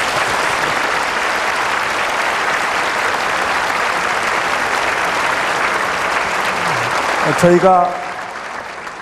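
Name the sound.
audience applause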